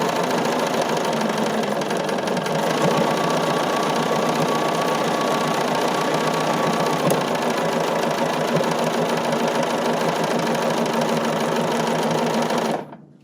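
A sewing machine stitches decorative embroidery for a sampler block in one continuous run, its steady, close mechanical whir and rhythmic needle chatter holding even for about thirteen seconds before stopping abruptly at the end.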